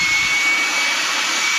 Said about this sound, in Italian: E già soffia per un solo motore in azione